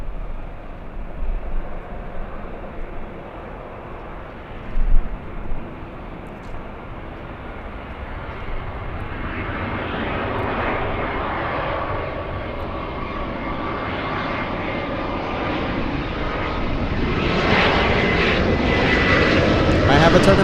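A Delta airliner rolls for takeoff on runway 24 left at Los Angeles International, its jet engines building from a low rumble to a loud, steady roar, with radio talk underneath.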